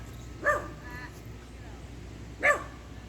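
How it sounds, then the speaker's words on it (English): A dog barks twice, well apart, from a short distance in an outdoor yard near a fire pit under restoration, over steady low background noise. "Now I got a dog barking at me."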